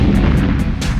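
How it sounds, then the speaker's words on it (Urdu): Heavy cannon fire pounding city walls during the Ottoman siege of Constantinople, a loud, dense rumbling barrage of booms lasting about a second with no voices. "اب دیواروں پر گولہ باری شروع ہو چکی تھی۔"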